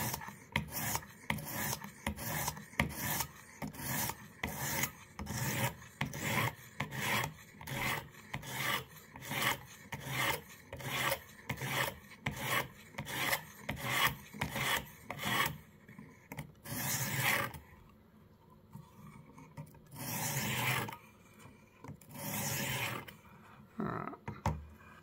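A knife being sharpened on a Xarilk portable sharpener, a long run of quick rhythmic rasping strokes up close, then a brief pause and a few slower strokes, with no talk.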